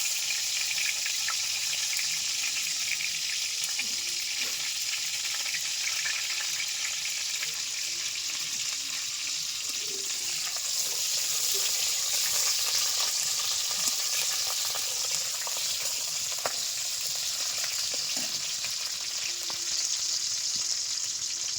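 Garlic, onion and green chilies fry in oil with a steady, dense hiss, a constant close sizzle holding for the whole stretch with faint scraping ticks over it.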